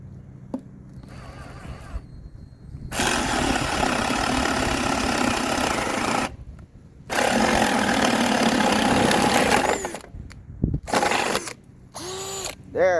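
A Bauer 20 volt cordless drill spins at high RPM while boring holes in wood, its loud, close whine running in two long sustained bursts with a short pause between them and brief mechanical clicks at the end.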